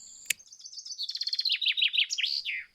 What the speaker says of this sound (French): Écoutez plutôt ce chant d'oiseau.